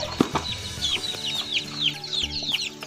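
Young chickens nearly one month old feed nearby, giving soft clucking and high peeping chirps with a few light thumps and wing flutters, moderately quiet, with no voices.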